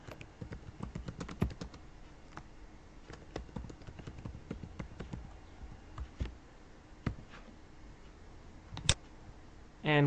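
Keystrokes on a computer keyboard come through as a brisk run of close, light clicks with brief pauses, fairly quiet overall, ending in a louder burst.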